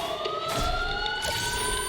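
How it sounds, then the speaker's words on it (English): Police sirens wail in the video game Batman: Arkham Asylum, several overlapping tones sounding together, loud and close over a low rumble. "Sirens."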